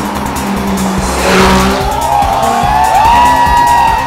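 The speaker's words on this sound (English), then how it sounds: "Shrieking V12s, screaming V10s, roaring V8s, and burbling flat sixes, wowing the crowd." Supercars with shrieking V12, screaming V10, roaring V8 and burbling flat-six engines rev loudly during a Sunday street parade in Mumbai, with tires squealing through a sustained, rising skid over the continuous engine roar.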